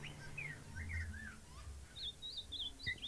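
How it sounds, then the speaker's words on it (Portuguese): Several birds trill and chirp in short bright phrases over a quiet, low background hum, sounding moderately close and soft. "eu vou baixar um pouquinho o som dos passarinhos"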